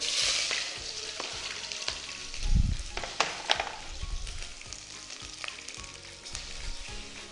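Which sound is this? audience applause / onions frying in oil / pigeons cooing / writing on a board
onions frying in oil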